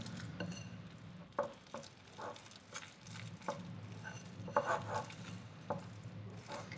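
Apple cookie dough being stirred with a whisk in a bowl, soft irregular scraping and tapping strokes close up, with no talk.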